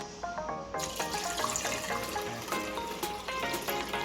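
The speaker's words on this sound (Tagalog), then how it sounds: "Ilagay tayo ng konting tubig." Water pours into the reservoir of a De'Longhi espresso machine as a steady, splashy trickle, close and continuous for several seconds.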